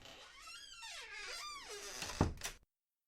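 A front door swings shut in a dark, quiet house, with a faint squeaky creak from the hinges followed by a single close thunk and latch click, then silence.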